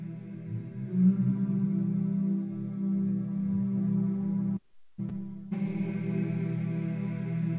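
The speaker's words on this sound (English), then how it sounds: "Let's load up the drone," A sustained drone patch from the Spitfire Audio The Pool sample library, a steady layered harmonic hum that cuts out briefly and then resumes with a brighter shimmer, heard alone without speech.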